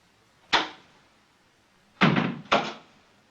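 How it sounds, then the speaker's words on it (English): A door is shut in a quiet room, with three separate thuds: one single knock-like hit, then two heavier bangs close together, near and fairly loud with no talk. "Shut that door."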